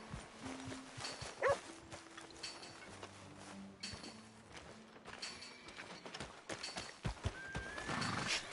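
A horse in the video game Red Dead Redemption 2 whinnies once, loud and close, with scattered hoof clops and a dog barking at times over soft game ambience.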